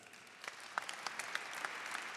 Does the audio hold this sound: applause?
yes